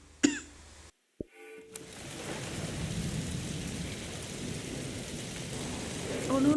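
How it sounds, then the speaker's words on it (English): Rain in the video game Season: A Letter to the Future, a steady hiss of falling rain and pattering on surfaces after a couple of short sharp sounds and a brief silence at the start. "this is the sound of the rain."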